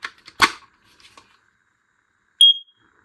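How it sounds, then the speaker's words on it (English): A few soft clicks and a thud as a First Alert Z-Wave smoke alarm is installed, then a single short, loud electronic beep, followed by quiet. "you're going to hear a loud beep"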